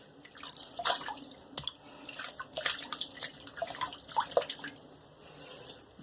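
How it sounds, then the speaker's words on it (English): Water splashing as a face is re-wetted at a sink before shaving, with repeated close dripping and splashing in irregular bursts over steady running water, no talking. "Let me wet my face for a moment."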